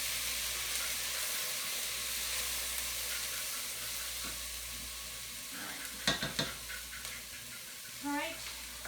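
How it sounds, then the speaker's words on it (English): Tomato paste stirred into sizzling vegetables for turkey bean chili, a soft steady fry under the stirring with a few spoon clinks and scrapes near the end, faint and close. "You're just going to stir it in there really good."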